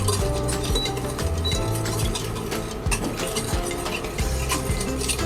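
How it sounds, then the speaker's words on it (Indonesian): A spoon stirring sugar into milk in a pot for croissant dough, continuous close scraping and clinking of metal against the pot, with no talking. "Kita aduk sedikit."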